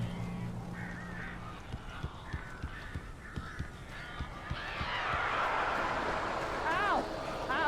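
Birds near a cabin in the video game Alan Wake, honking and cawing harshly while a steady run of thuds taps underneath, then a swelling, noisy flutter of wings and calls near the end.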